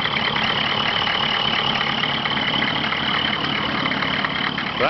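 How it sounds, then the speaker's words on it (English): A Dodge 3500 single rear wheel truck that had been snowbound runs steadily after a hard start, its engine idling loud and close with a constant low rumble and no voices over it. "that's how you get a snowbound 3500 single rear wheel running"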